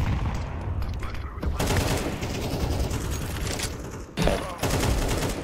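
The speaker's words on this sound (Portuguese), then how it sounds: "Para de atirar no smoke." Rapid gunfire in the game Counter-Strike 2, with dense bursts of shots running almost continuously under the talk of players, a short gap, then a sharp louder burst near the end.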